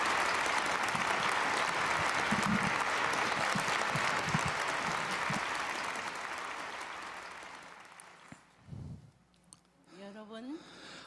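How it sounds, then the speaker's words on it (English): A large audience at a formal gathering gives a big, warm round of applause, a dense, sustained wash of clapping that fades out toward the end, followed by a few quiet thumps and a brief voice. "Everyone, let us welcome True Mother with a big warm round of applause."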